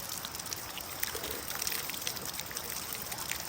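Ice-cold water runs from a tap set up at a waterfall, a faint, continuous trickle and splash heard at a distance, with no talk over it.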